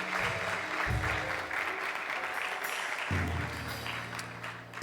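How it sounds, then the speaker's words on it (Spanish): Church congregation applauding, a moderate, continuous patter of many hands clapping, with low musical tones from a keyboard entering and sustaining in the background. "dale un fuerte aplauso al Señor."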